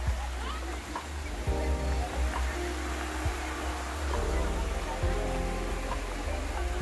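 A waterfall near Penedo, Rio de Janeiro, makes a constant broadband rush of falling water that sits steadily behind the scene, with people talking quietly over it at times.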